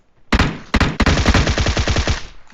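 Automatic gunfire in a shooter video game: a short rapid burst, a brief break, then a longer sustained stream of fast, loud, close shots, with no speech.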